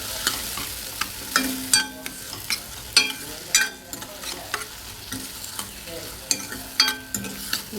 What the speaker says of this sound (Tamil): இப்போது வெங்காயம், தக்காளி எல்லாமே நல்லா வதங்கிடுச்சு